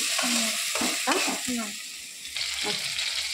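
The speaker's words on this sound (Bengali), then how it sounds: "সম্বারা টমেটো দিয়ে ভালো করে এটা ভাজা হয়ে যাচ্ছে" Tomatoes sizzle in hot oil with tempering spices while being stirred, with a spatula scraping in uneven strokes over the steady frying hiss.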